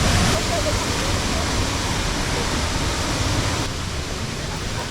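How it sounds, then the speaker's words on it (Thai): Jed Kod Yai waterfall on a forest hiking trail gives a steady, dense rush of falling water, loud and constant throughout with no pauses. "จากน้ำตกเจ็ดคดใหญ่นะฮะ"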